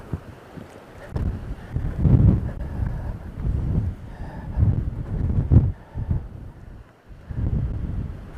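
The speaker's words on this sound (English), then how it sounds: "Hopefully my voice is coming through because this wind is sure nuts." Strong gusting wind buffets the microphone on an exposed ledge in Theodore Roosevelt National Park's South Unit, loud rumbling blasts rising and falling in waves with no talk.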